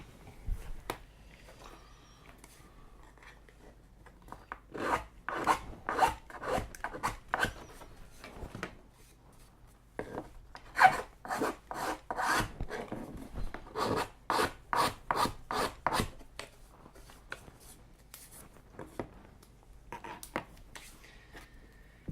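A flat file rasps against plastic parts of a Scenic Store Izba small family house model kit, in rhythmic bursts of quick back-and-forth strokes with brief pauses between, close and fairly loud.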